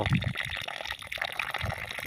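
Water spurts from a long borewell pipe about 150 feet deep, sputtering as trapped air escapes in gurgling, uneven gushes, close and continuous with no talk.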